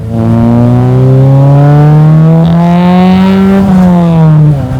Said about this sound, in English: you really hear a snap in the exhaust tone when it kicks into the VTEC